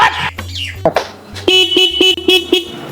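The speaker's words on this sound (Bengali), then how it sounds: "হর্নেও তো কাজ হচ্ছে না" Several loud, close car horn honks from a vehicle in poor condition, sounding in short repeated bursts with gaps, the later ones steady and evenly spaced.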